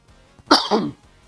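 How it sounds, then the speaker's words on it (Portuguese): A single sharp cough, close and fairly loud, with a short second burst right after, in an otherwise quiet moment. "ai, tosse danada"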